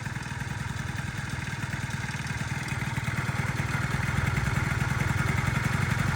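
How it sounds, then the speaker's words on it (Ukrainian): A Honda Dio AF-34 carbureted scooter engine idles steadily up close, its low chugging pulse running continuously and growing slightly louder toward the end. "Двигун гарно працює, в принципі,"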